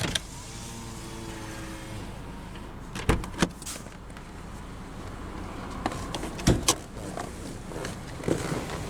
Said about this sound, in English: we'll roll down the driver's window